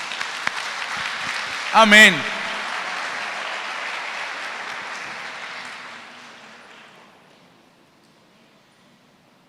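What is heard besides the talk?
audience applause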